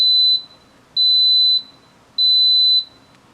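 Instant Pot Duo Evo Plus pressure cooker sounding three long, loud, high-pitched electronic beeps in steady succession as start is pressed, each lasting about half a second with short gaps.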